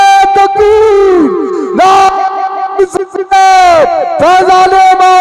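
A large crowd at a religious gathering shouts the takbir slogan in unison, loud, echoing bursts of massed voices in several repeated waves, each ending in a sustained tone.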